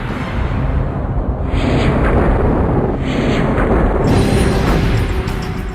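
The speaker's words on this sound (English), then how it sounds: "the power of this fragment colliding into Jupiter" Explosion effect for a comet fragment colliding into Jupiter: a loud, sustained, dense roaring rumble that continues without a break, with slight surges as it goes.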